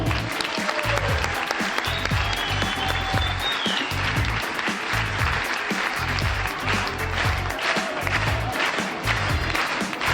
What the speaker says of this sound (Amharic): ትዕግስት እና ክበበው ሞቅ ያለ ጭብጨባ።